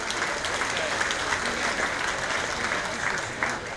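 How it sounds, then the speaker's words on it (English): Dense, loud applause from the crowd at a 4-H livestock show and auction rolls on steadily, with faint voices mixed into the clapping. "I'd like you to give yourselves a round of applause right now"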